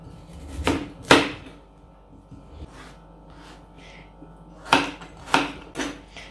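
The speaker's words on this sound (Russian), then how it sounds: "Лук я нарежу полукольцами." A knife cuts an onion into half rings on a board during soup preparation, giving several separate sharp chopping knocks in two irregular groups with quiet gaps between, close and moderately loud, without speech.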